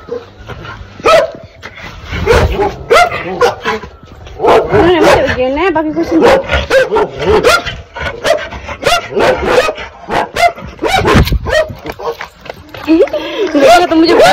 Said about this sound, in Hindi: इतने जोर जोर से भौंक रहे हैं, क्या हो गया?